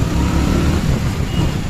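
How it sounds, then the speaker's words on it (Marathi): Heavy road traffic in Nashik during Mahashivratri, a dense, steady roar of car and motor engines close by, with low rumbling and revving throughout and no pauses. "खूप ट्रॅफिक आहे."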